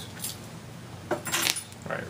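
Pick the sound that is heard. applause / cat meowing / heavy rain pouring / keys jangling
keys jangling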